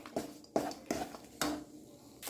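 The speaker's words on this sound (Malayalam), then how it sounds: "വെളുത്തുള്ളിയും ഇഞ്ചിയും പച്ചമുളകും കൂടി ഇട്ടിട്ട് നമുക്ക് നന്നായിട്ട് ഇതിനെ ഒന്ന് വഴറ്റിയെടുക്കാം" Garlic, ginger and green chilies are sautéed in a pan for a cabbage curry. Four or five soft scraping strokes of a spatula against the pan rise and fall at a quiet, steady rhythm, with no talk.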